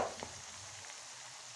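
A tadka of cumin, coriander powder, crushed chili and turmeric sizzles quietly in hot oil, giving a soft continuous fry with a slightly louder crackle at the start.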